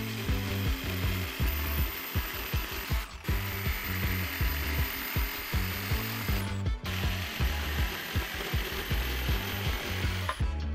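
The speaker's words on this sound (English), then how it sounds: "I had to order this 10-inch long jigsaw blade just to be able to cut the rest of the way through the slab" A jigsaw fitted with a 10-inch blade saws through a thick wood slab, a loud, continuous rattling buzz of fast reciprocating strokes with two brief pauses, close up and with no voices.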